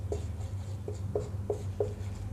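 Marker or chalk strokes on a classroom board, a series of short scratchy squeaks spaced about every third of a second, close by over a low steady hum with no speech.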